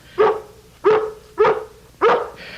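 A dog barks four times at a steady, even pace, close and clear, with short pauses between each bark.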